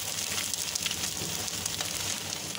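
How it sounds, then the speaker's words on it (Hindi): An egg frying in a pan gives a steady, bright sizzle that stays fairly even throughout, close and crackling, with no talking over it. "आप ये 1 अंडा आप ऐसे भी डाल के फ्राई कर सकते हैं"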